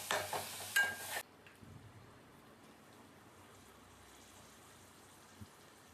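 Tomatoes and salt are already in the pan as mushrooms are added. A loud burst of sizzling lasts about a second, then a faint steady crackle of frying continues.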